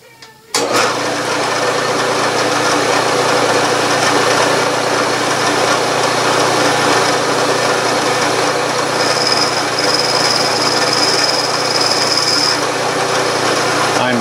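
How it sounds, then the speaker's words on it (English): A milling machine cuts a tiny brass steam engine fitting with the side of the cutter, making a loud, steady mechanical whir and hum that starts abruptly and runs throughout, with a thin high squeal partway through. "And here I am milling with the side of the cutter."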